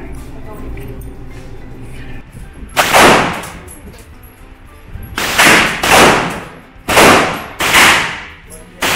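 Gunfire at a Las Vegas shooting range: several loud, close shots, a lone report followed by a quick cluster, each with a reverberant tail, over background chatter and range noise.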